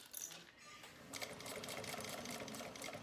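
An industrial sewing machine fitted with a piping foot runs fast and steady, stitching over piping, a close continuous mechanical whir that starts after a brief pause.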